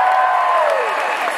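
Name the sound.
crowd cheering at Obama speech at UW Madison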